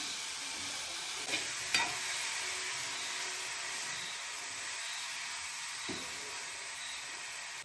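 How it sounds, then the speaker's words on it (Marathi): Vegetables sauté in a hot pan with a steady broadband sizzle that runs throughout, broken by a few soft knocks of stirring against the pan, fairly quiet with no talking. "आता भाजी व्यवस्थित परतून घेऊया"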